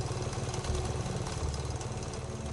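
A motorcycle engine idles in a steady, loud, rhythmic putter with a slight knocking pulse, heard alone with no voices, used as a sound effect in a horror story.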